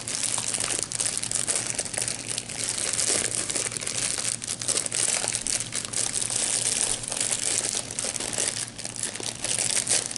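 A Sephora Play box bag is opened with constant crinkling and crumpling of packaging, close and fairly quiet, with bursts of rustle running throughout and no talking.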